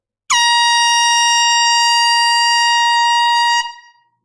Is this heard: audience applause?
no